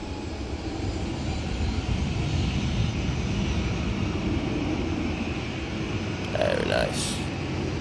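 Airliner taking off at Manchester Airport in Storm Floris winds, a loud steady engine roar with gusty wind noise throughout, a brief higher whine rising near the end.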